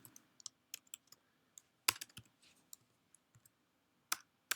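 Typing on a computer keyboard while coding JavaScript: sparse, irregular clusters of close, crisp key clicks with short pauses between bursts, quiet and alone.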